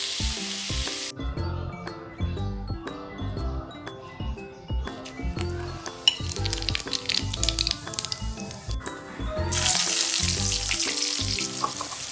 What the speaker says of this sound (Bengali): প্রথমে এগুলো ভালো করে ভেজে নেবো, এঁচড়গুলো।